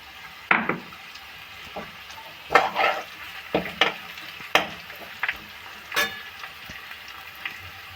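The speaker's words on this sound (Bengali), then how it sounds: "রসুন থেতো করে দিয়ে দিলাম।" Crushed garlic fries in a pan with cinnamon, cloves and star anise, a soft sizzle punctuated by several sharp scrapes and clatters of a spoon stirring against the metal.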